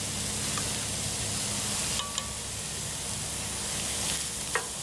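Pork sizzling and frying in a pan for homemade meat sauce, a steady broad crackle with a few light scrapes of stirring, close and continuous, no talking.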